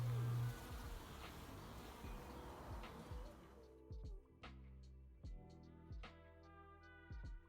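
Soft, faint buzzing of bees drifts among flowers at an allotment on open day, a low hum that rises and fades, with a few light tonal chimes near the end.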